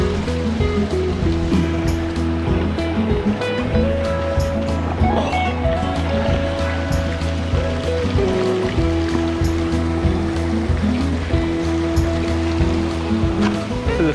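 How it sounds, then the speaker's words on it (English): Creek water rushes steadily over boulders along a hiking trail up Snow Mountain in the Adirondacks, a loud, close, continuous roar with no break and no talking. "you've got the water running down through it"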